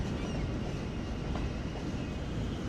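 A train in a GTA video game rumbles in a steady, dense low roar, loud and continuous without breaks or distinct clatter, and no talk over it.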